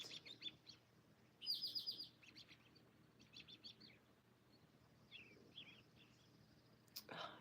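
Bright bird chirps and tweets come in short bursts over a quiet outdoor background, some nearer and louder, others faint and scattered.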